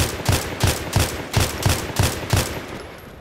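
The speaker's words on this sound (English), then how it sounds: "I thought someone was shooting." Gunfire in a police patrol video game, a rapid series of about seven evenly spaced sharp shots, loud and close, fading slightly at the end with no speech.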